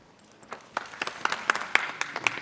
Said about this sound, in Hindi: very good, Tali